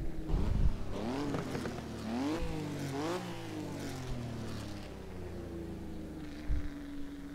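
A Maserati 250F with a V12 engine and five-speed gearbox, driven in Assetto Corsa, revs hard and climbs through several quick gear changes, its pitch sweeping up and dropping repeatedly before settling into a steady drone.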